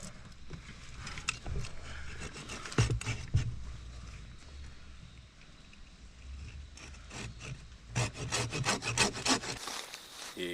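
Wood is hand-sawn at a river campsite, with rough rasping strokes that come in uneven bursts, close and fairly loud, pausing briefly midway before a quicker run of strokes.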